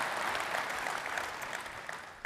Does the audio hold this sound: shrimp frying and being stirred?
no